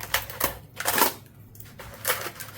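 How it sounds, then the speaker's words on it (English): Someone peels the dried, papery skin off a luffa gourd by hand. The sound is a series of close, crisp crackling and tearing bursts with short pauses between them. "To get to that loofah sponge inside there, we're just going to peel away this zipper skin."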